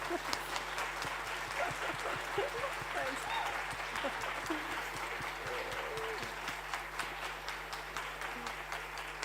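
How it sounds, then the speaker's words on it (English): A round of applause for a presenter named Meredith at a conference session, steady crowd clapping that holds evenly throughout, moderately close, with faint voices beneath. "another round of applause for Meredith before we leave"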